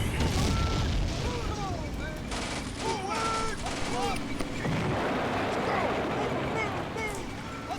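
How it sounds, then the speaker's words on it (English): Anti-tank gun firing in the World War II game Combat Mission Beyond Overlord, heavy booms within a dense mix of battlefield gunfire, with voices talking over it. "I think that is the anti-tank gun, yeah."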